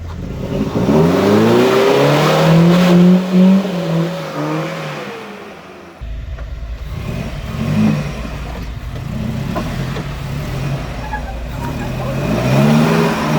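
A 2.5-ton military truck engine revs under throttle, harmonics rising and falling loudly for about six seconds, then a steady low rumble continues up close with occasional surges toward the end.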